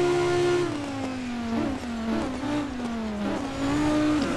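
A race car in the video game Real Racing 3 with a droning engine note, brief scrubbing tire skid sounds breaking in midway, heard up close and steady without talk.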